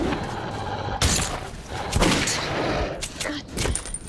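Gunfire in the first-person shooter Metro 2033 Redux, several sharp weapon shots fired in irregular bursts with booming reports and mechanical clatter, loud and close against a dark ambient background.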